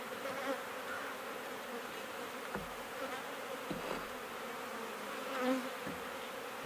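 Honey bees buzz around an open beehive, a continuous close, moderate drone of many insects with small shifts in pitch and occasional faint knocks.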